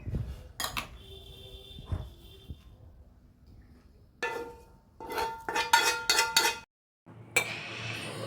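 A spoon clinks and scrapes against a bowl as oil is worked into raw mango and green chilli pickle, with irregular metallic taps, bursts of rapid clatter, and brief quiet gaps between them.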